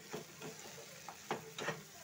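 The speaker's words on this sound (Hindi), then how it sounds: "जब इसमें ऑयल छोड़ने लगे इसको अच्छे से फ्राई करते रहना है।" Mixed vegetables frying in oil in a pan, a faint sizzle with a few soft stirring scrapes, heard alone and quiet.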